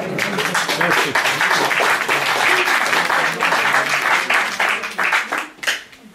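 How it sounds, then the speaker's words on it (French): An audience applauds at a ceremony celebrating a historic house's anniversary, loud close clapping that fades out near the end, with some voices in the crowd. "On peut l'applaudir"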